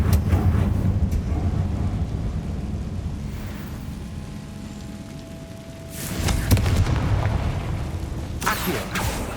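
A Confringo fire spell explodes in Hogwarts Legacy, a loud booming burst around the six-second mark with a second blast near the end, set over a steady rumbling game ambience with no talk.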